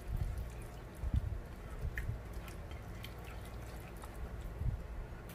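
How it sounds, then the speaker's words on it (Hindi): Lemon juice trickling into a yogurt-based chicken marinade, a soft low pour with faint drips, close and quiet with no talking. "मिक्स करने के बाद इसमें लेमन जूस जाएगा।"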